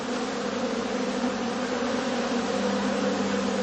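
Bees hum in a steady drone around heather skeps at an autumn apiary, the buzzing continuous and fairly close, with no voices and no breaks across the few seconds.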